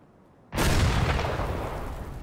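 A grenade goes off in a hardcore-mode multiplayer shooter: one sudden loud blast after half a second of quiet, followed by a dense, rumbling roar that slowly fades over the next two seconds.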